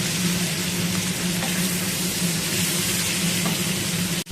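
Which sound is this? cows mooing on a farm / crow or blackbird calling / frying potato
frying potato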